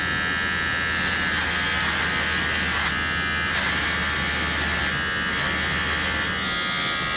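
Shinon S1913 electric motor spinning at 6000 RPM during a brush test, a loud, steady high-pitched whine and buzz that holds constant from start to finish.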